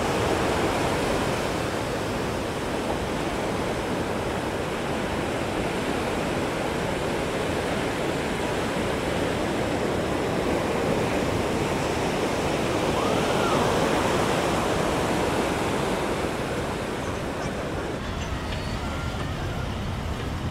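Sea waves at Vizag beach, a steady, broad roar of surf that continues unbroken for about twenty seconds, with no voices heard.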